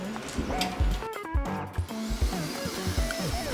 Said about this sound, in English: the tool that I'm using to sand it is just a bolt with a nut and a round piece of MDF and sanding paper all around it